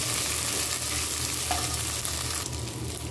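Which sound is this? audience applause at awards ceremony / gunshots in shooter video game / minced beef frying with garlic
minced beef frying with garlic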